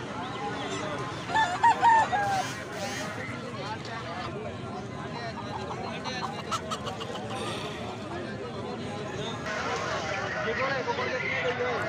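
Desi and golden laying hens crowded at a busy poultry market, steady clucking and squawks with a rooster crowing, under constant crowd chatter and nearby talking.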